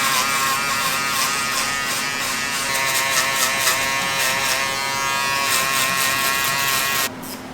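An electric hair trimmer buzzes continuously and close up while cutting a high skin fade, its steady whine shifting slightly in pitch before cutting off near the end.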